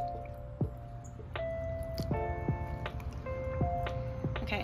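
Water bubbles and drains through soil in succulent pots, a close, quiet series of small popping drips and gurgling squelches scattered irregularly over a soft background trickle.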